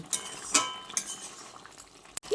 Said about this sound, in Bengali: এবার আমি সবজির সঙ্গে ভাজা নিম পাতাটাকে ভালো করে মিশিয়ে নিচ্ছি